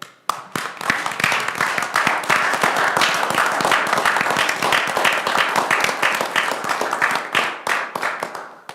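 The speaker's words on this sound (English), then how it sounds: "please, round of applause for Dave" An audience at a Jamestown town council meeting gives sustained, dense applause for nearly nine seconds, loud and close with many overlapping hand claps that taper off at the end.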